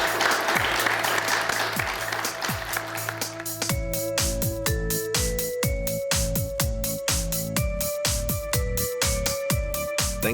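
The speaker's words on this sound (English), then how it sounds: "Please join me in giving a round of applause to our two experts here." A round of applause from a live podcast audience after a public health conversation: a steady, full wash of clapping for about three seconds before music with sharp plucked chords takes over.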